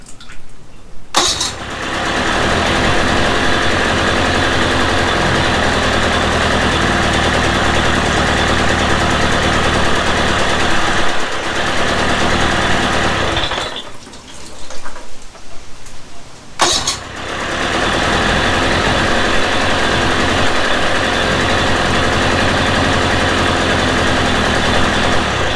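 A Mercury 350 35hp outboard engine fresh from a head gasket replacement cranks, catches and runs at a steady rough idle, close and loud, then cuts out for a few seconds before restarting and settling back into idle.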